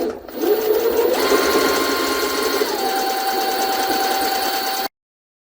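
A Jaguar SJ-23 sewing machine runs an elastic stitch, whirring steadily and loudly for about five seconds with a shifting motor hum before stopping abruptly.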